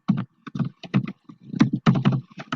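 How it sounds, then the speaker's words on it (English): Rapid, uneven clicking of fingers typing on a computer keyboard, close by, in quick bursts with short pauses between them. "And my brother is typing."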